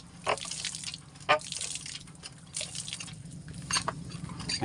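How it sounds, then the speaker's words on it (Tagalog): Water drips from a faucet in a few distinct, uneven drops, each a sharp little plink over a steady low hum. "Ayan, tumutulo na po yung aming gripo."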